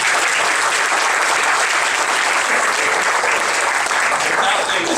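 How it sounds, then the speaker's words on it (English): A dense, steady round of applause fills a 2015 TKA banquet hall, loud and sustained from start to finish with no break. "So I just want to give a big round of applause to those guys."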